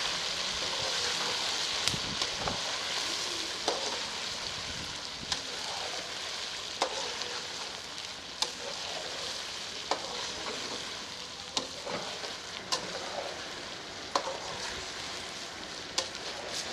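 Golden potatoes and ginger garlic paste sizzle in a karahi for Afghani aloo karahi, a constant bright frying hiss broken by regular spoon-stirring scrapes and clacks about every couple of seconds, close and unaccompanied by talk.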